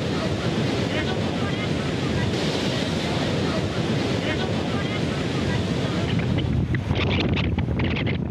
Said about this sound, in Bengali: সাগর উত্তাল থাকায় পটুয়াখালীর কুয়াকাটায় গুড়ি গুড়ি বৃষ্টির পাশাপাশি বড় বড় ঢেউ আঘাত